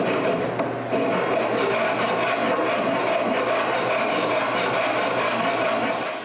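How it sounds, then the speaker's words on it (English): Up close, a rasp files the wooden frame of a serving tray in steady, continuous scraping strokes, loud and unbroken, with no talking. "I fix that with a rasp."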